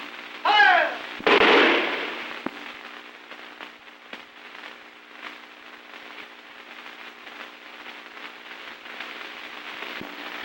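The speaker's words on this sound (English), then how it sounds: "The firing squad." A firing squad's rifle volley rings out in a 1930 film, one sharp loud burst right after a shouted command, followed by a fading crackling tail and soft background noise.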